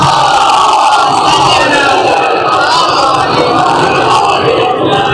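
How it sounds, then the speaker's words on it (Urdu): A large crowd loudly recites salawat in unison, a dense continuous roar of many voices filling the space. "صلوات پڑھے محمد و آل محمد"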